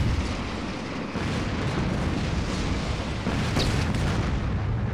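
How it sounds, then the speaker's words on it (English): Rocket launcher explosions in the Saints Row video game, a dense, continuous roar of booming blasts and rumbling bursts, loud and close with no distinct gaps. "they're just shooting these damn rocket launchers at me is wild"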